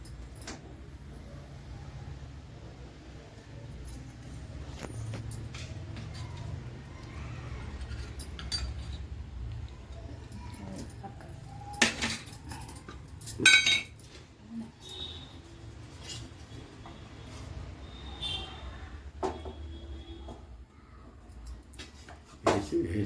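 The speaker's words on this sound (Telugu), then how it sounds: "చిన్న కడాయి పెట్టుకుంటాను." A small kadai pan set on a stove in a home kitchen gives a few soft metallic clanks and clinks over a low background rumble.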